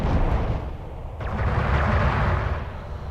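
Railgun fire in Homeworld: Deserts of Kharak, a loud sustained rumbling blast with a fresh boom about a second in, rolling on continuously close and heavy with no talk over it.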